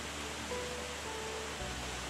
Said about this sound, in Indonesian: Ini adalah air terjunnya